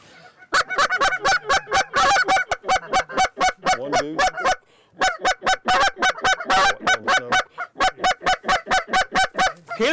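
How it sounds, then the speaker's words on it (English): Goose honks during a duck hunt at Reelfoot, loud and near, repeating in rapid rhythmic bursts for ten seconds with only brief pauses and no talking. "Where's that goose at?"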